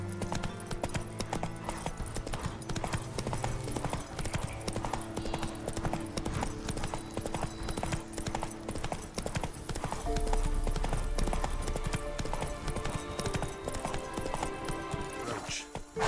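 Hooves of Roach, the horse in The Witcher 3, pound in a fast, continuous galloping rhythm, loud and close, with game ambience beneath and a brief snort or whinny.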